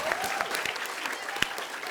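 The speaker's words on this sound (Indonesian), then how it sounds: "kita berikan tepuk tangan untuk Wendy, Narji, Bang Dery, sama Bang Tata." Audience applause from a studio crowd at an Indonesian comedy show, a dense steady clatter of clapping lasting throughout with a few sharper claps standing out.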